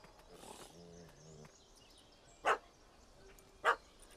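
A dog in The Witcher 3 gives two loud, sharp barks well spaced apart, after a muffled stretch of low in-game ambience and a brief growling snarl.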